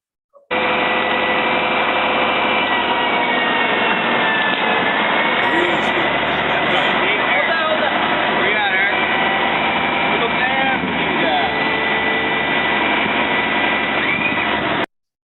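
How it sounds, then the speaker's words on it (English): A hydraulic single-cylinder utility pole puller at work, its engine droning loud and continuously with whining, shifting hydraulic strain, then cutting off abruptly at the end. "the video that we have that I wanted to show here of one of the single cylinder pole pulls"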